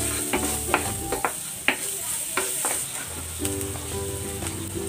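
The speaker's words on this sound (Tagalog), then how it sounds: "Igisa na natin tong bawang." Garlic frying in oil in a pan for a chicken dish, a steady sizzle punctuated by sharp, irregular stirring clacks and scrapes close by, without any speech.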